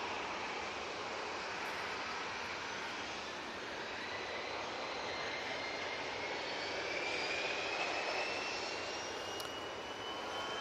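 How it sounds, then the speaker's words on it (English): An Airbus A321 airliner arriving at Manchester Airport, its steady broadband jet roar holding throughout, growing slightly louder and nearer toward the end, with a faint high whine running over the rumble. "And there's that lofty A321"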